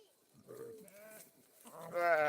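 Sheep and goats bleat close by in several separate calls, rising to a loud, strained bleat at the end.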